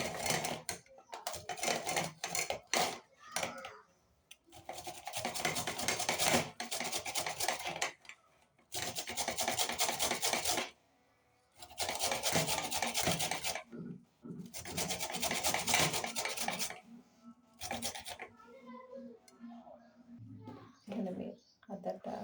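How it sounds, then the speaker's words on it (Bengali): Ginger rubbed by hand against a grater in a kitchen: long stretches of steady, close scraping rasps in repeated strokes, pausing briefly between bursts, with occasional talk in the background. "আমি আদাটা ঘেট করে নেব।"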